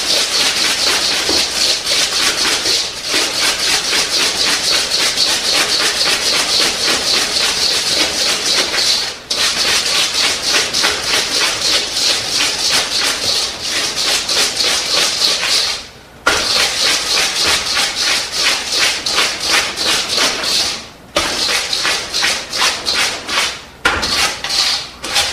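Shortbread cookie batter is creamed by hand in a bowl, giving a loud, continuous rapid scraping and whisking rhythm that runs steadily for over twenty seconds with only brief pauses.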